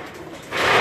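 Pigeons coo softly in a rooftop loft, one short, close, throaty coo rising near the end of a brief moment.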